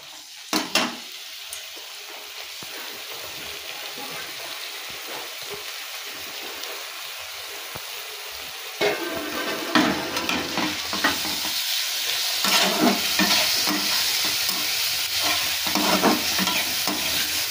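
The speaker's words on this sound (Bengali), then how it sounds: "ডালটাকে ভালো করে পেঁয়াজের সঙ্গে মিক্স করে নিতে হবে" Washed red lentils are stirred into reddish fried onions in a pan: a quiet stretch of faint scrapes, then louder continuous sizzling with repeated spoon stirs for the rest.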